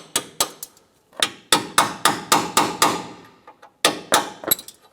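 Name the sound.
hammer driving a punch to knock out rivets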